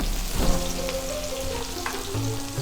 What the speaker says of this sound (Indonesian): Selanjutnya kita aduk terus, tumis terus sampai dia menguning bawangnya